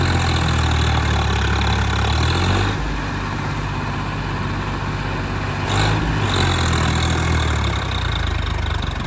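A tractor engine idles steadily in a low, continuous rumble, loud and close, with a slight dip in level partway through and no talking.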